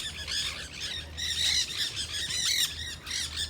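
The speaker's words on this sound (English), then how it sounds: "so many wild parrots" Hundreds of wild parrots squawking together at a downtown St. Petersburg pier, a dense, continuous chorus of harsh, overlapping calls close by, with no talking.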